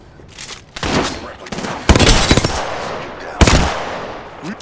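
Rapid automatic gunfire in the Apex Legends video game, loud and close, coming in several bursts separated by brief pauses, with some faint speech mixed in.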